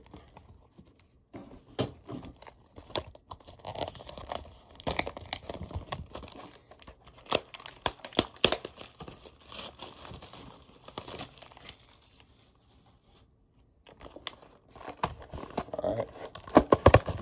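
Plastic wrap on a 2019-20 SP Authentic hockey card hobby box is cut open and peeled away, giving irregular crinkling and tearing bursts up close, with a quiet pause near the end before more crumpling. A voice talks faintly under it.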